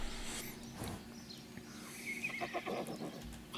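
A horse neighs in the Farmers Life farming video game, a shrill whinny rising and falling over a quiet background with faint hoof clip-clops, fairly close.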